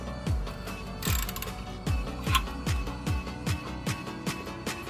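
Ratchet wrench tightening a car's oil drain plug, a close run of quick clicking pulls, roughly ten in a steady rhythm, each a crisp mechanical rasp.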